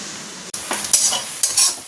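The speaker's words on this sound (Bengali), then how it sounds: "পেঁয়াজ লঙ্কাটা ভালো করে ভাজা হয়ে গেছে" Onion and green chili frying in a pan sizzle up close as a spoon stirs through them in a few quick scraping strokes.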